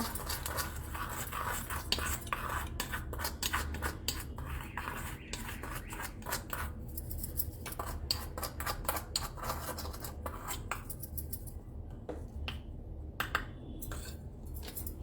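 Rice stirred with a tiny utensil in a miniature cooking pot, a quiet rapid series of light scraping and clicking taps against the small pot, close and fairly faint, with low background hum throughout.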